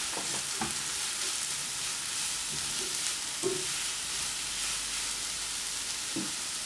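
Vegetables frying in extra virgin olive oil in a pan, a steady close sizzle throughout with a few soft stirring knocks, no voices.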